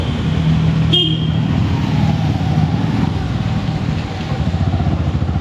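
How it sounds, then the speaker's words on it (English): A car approaches along the busy GT road, its engine noise building steadily in dense traffic; a short horn toot sounds early, and the rumble of passing vehicles continues throughout. "One car is coming."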